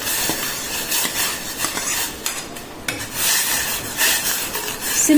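Roasted, washed rice and lentils rattle and scrape into a pot of water, a dense scratchy pouring with a few sharper clinks against the metal, no one speaking.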